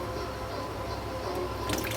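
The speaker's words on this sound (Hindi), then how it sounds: "पानी उसमें भर रहा है" Water dribbles and drips steadily inside a desert air cooler as its tank fills. The trickle is close and continuous, with small splashes over a low background hum.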